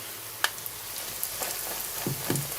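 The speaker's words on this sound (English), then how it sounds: "Sizzling away, but not rapidly." Pork cutlets for Polish kotlet schabowy sizzle gently in a frying pan, a soft, steady hiss broken by a few faint pops and crackles.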